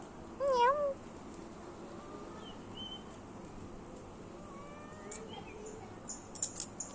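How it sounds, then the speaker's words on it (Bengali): A cat gives one clear, close meow early on, followed by quiet background and a few faint chirps and scrapes. "মিয়াও।"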